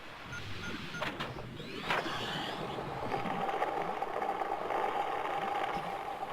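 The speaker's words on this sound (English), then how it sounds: "I can reconfigure the O2 system to act as a bilge pump." A bilge pump improvised from a reconfigured O2 system in the video game Subnautica runs with a steady mechanical hum and faint whine, joined by a few brief clanks early on, continuing evenly throughout.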